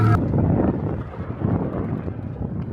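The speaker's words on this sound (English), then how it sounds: "it's extremely, extremely windy" Strong wind roars and buffets steadily, rumbling into the microphone with a constant low, blustery rush.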